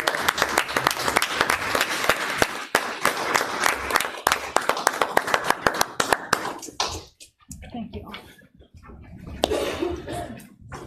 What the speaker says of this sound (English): I think we need to give Connie a round of applause